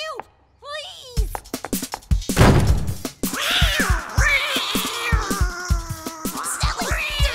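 Cartoon cat meowing in an animated children's detective show, several drawn-out high meows standing out over busy music and cartoon sound effects, with characters talking around them.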